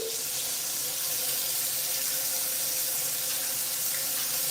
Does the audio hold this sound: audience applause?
no